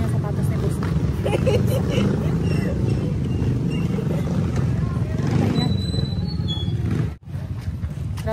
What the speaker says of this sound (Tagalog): Grabe yung tunog ng motor guys, parang chinso.